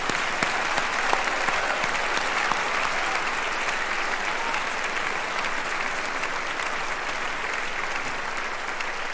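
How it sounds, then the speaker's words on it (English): Graduation ceremony audience applauds the graduating class of 2022 at a commencement for MPP, MIA and PhD graduates, a long, even, sustained wash of many people clapping in a large hall, moderately distant. "Please, everybody, join me in the applause for the class of 2022."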